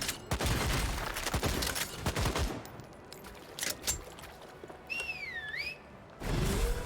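Gunfire from shooting at enemies in the video game Lost Ark, heard as several sharp bursts of shots in the first seconds, followed by quieter ambient effects and a short rising whistle-like tone near the end.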